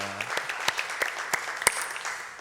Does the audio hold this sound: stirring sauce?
no